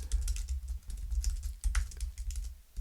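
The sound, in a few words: typing on a computer keyboard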